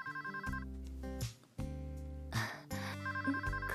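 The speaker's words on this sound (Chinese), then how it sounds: "电话。" A telephone rings in short bursts at the start and end, heard amid other sustained tonal sounds and a fairly quiet room.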